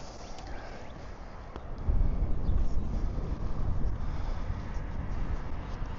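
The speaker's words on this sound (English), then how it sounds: "Yeah, it's pretty windy here." Wind buffets the microphone while cycling in Chicago on a windy early-spring day, a low rumbling roar that swells sharply after a couple of seconds and stays strong, with no talking.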